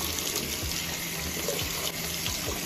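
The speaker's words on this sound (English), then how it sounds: "Make sure that you rinse it." Steady running tap water pours over a plant pot being rinsed for an African violet, a constant close splashing stream with no talk.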